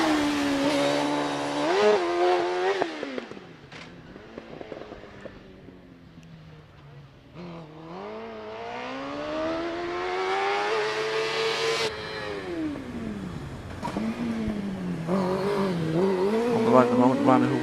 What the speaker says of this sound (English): Wakeham now, 165 on the line in the OMS CF96 with a 999cc engine powering it